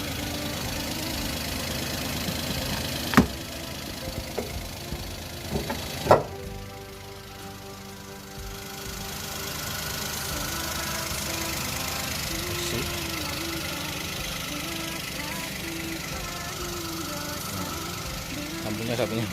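Used car engine idling at a dealer's lot, a steady low hum heard close up, with a couple of sharp knocks near the start and people talking over it.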